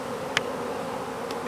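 A swarm of angry bees hums steadily up close, a continuous buzzing drone with a couple of brief sharp ticks, no voices.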